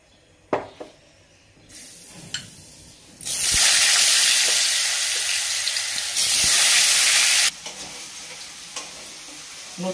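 New potatoes frying in hot mustard oil in a kadai: a few clinks and quiet stirring, then loud bursts of hissing sizzle that surge and ease back in two long waves.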